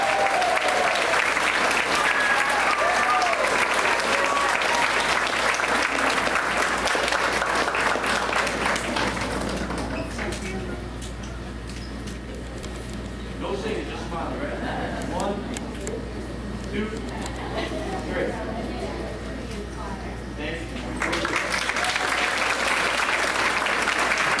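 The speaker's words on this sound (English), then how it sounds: "Another round of applause for our all-state choir." An audience applauds an all-state choir at a school board meeting, loud sustained clapping that thins to a quieter stretch with a voice speaking, then swells back to full applause near the end.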